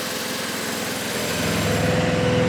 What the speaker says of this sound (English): start our motor, take the throttle just a little off the bottom, fire up our engine